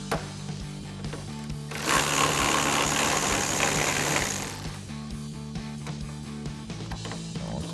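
Mechanical ratcheting and whirring from a socket wrench removing a 10mm bolt from the trunk area of a 2024-2026 Mustang during a rear spoiler install, a steady burst of a few seconds over a low background hum.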